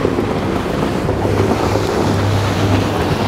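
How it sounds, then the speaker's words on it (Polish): A ferry crossing the river in Kraków's Podgórze district gives a steady, low engine drone, with wind buffeting and a broad rushing wash of water over it, continuous and fairly loud throughout. "Płynie sobie prom."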